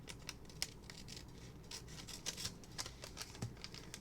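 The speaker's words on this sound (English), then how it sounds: "So I'm going to cut this one right around the" Scissors snip around an M&M's paper cutout for a handmade card, a close, quiet run of repeated crisp cuts with faint paper rustling between them.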